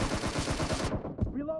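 Rapid automatic gunfire rattles off in a quick burst of about eight shots in a deathmatch shooter, then cuts out to a brief single crack and a short ringing tail.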